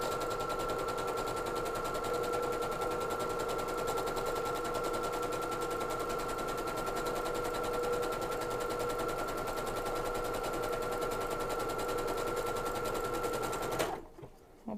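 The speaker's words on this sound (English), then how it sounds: "You already have it on your overcast stitch, so just start sewing." A sewing machine running an overcast stitch, a fast, even mechanical whirring rattle with a constant hum, close and steady for about fourteen seconds before stopping abruptly.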